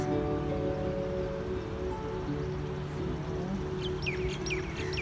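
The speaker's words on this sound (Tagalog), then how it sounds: "maririnig nyo po yung iba't ibang huni ng ibon" Steady outdoor background hum with several short, high bird chirps appearing near the end, fairly faint and spaced a moment apart.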